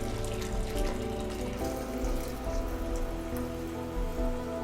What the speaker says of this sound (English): Pour bone broth hotly into a glass container or other saucepan.